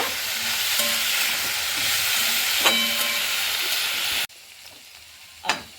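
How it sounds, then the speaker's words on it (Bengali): Cauliflower and cabbage frying in a pan, a steady hiss of sizzling oil with a few light clinks, then cutting off abruptly to near quiet before one short scrape. "ফুলকপি আর দেব বাঁধাকপি সবগুলোকে দিয়ে ভালো করে একটু ভেজে নেব"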